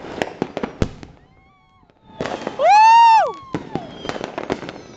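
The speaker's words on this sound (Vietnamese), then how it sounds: "Vẫn còn pháo, vẫn đốt được." New Year's Eve fireworks are set off in a home village, with sharp firecracker pops and bangs, a loud whistling rocket rising and falling, and voices in the background.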